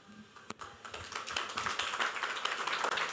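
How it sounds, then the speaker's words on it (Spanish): An audience starts applauding at an event, beginning with a few scattered claps and swelling into steady, fairly close clapping from a small crowd. "Bravo, un aplauso."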